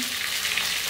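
Slices of pointed gourd (potol) frying in oil, with a soft, even, continuous sizzle for a brief moment and no talking.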